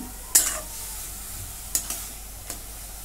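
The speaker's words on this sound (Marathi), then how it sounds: "आता याला जरा परतून घे." Finely grated pumpkin sautéing in a pan, a soft sizzle punctuated by three sharp stirring scrapes at irregular intervals, the first loudest, all fairly quiet and close.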